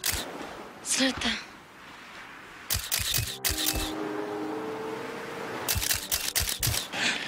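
Camera shutters click rapidly in bursts as paparazzi photograph Lady Gaga, with clusters of loud clicks separated by pauses and faint talk and background sound in between.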